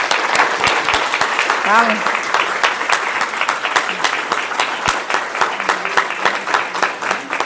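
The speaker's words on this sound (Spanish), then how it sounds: "Un aplauso para la doctora." Audience at a keynote lecture event applauding steadily and loudly throughout, a dense wash of clapping with a voice briefly speaking over it.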